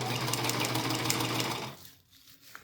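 A sewing machine with a ballpoint needle stitching a cloth diaper made of jersey fabric runs in a fast, steady whirring hum, then stops abruptly and leaves near silence with a faint click.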